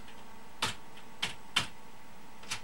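Computer keyboard keys being pressed for Windows 7 shortcut combinations: four separate, crisp key clicks at uneven intervals, close and fairly quiet, with no talking.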